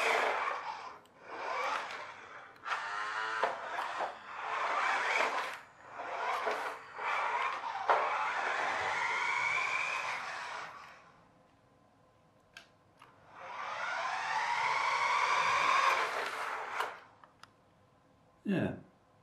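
Small 2.4GHz remote-control Lamborghini Aventador LP700-4 toy car whining in short bursts of electric motor buzz that rise and fall with the throttle, faint and close, separated by quiet gaps and a few clicks.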